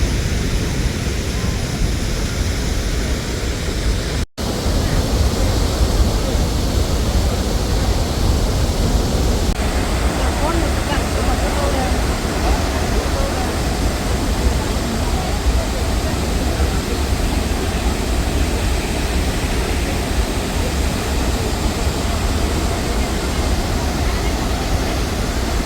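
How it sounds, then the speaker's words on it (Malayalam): Athirappilly waterfall roaring as a steady, dense broadband rush that holds at an even level throughout, broken only by a momentary dropout early on. "അതിരമ്പള്ളി വാട്ടർഫോൾ"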